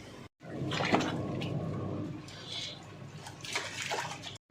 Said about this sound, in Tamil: இப்போ இந்த சிக்கனை தண்ணியில் சேர்த்துக்கலாம்.